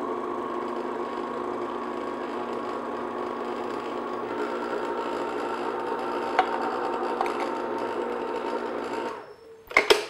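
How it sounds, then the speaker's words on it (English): Stand mixer running steadily on low speed while mixing pretzel dough, a continuous motor whir holding level for about nine seconds before it cuts off, followed by a few brief clatters. "I'm gonna turn my mixer on low speed and gradually add my yeast"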